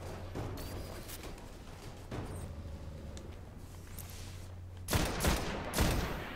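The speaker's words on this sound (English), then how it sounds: "it tore through that Minotaur in just a few shots" Vision of Confluence scout rifle firing in Destiny: faint, distant-sounding shots, then a few louder sharp cracks in quick succession near the end.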